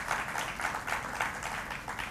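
Applause from the audience at a Paryushan literary gathering honouring two speakers: steady, even clapping from a moderate crowd, heard alone with no talk over it.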